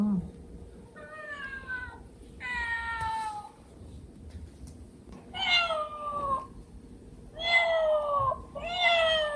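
Milk, a pet cat carrying a crying toy cat by the scruff, meows about five times in drawn-out, rising and falling calls, fairly close, over a low steady room hum.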